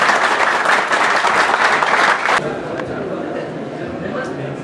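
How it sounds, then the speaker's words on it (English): An audience at an independence day event applauds a West Midlands deputy police commissioner, with loud dense clapping that drops to a lighter, thinner patter partway through, and crowd chatter mixed in. "Please give her a round of applause."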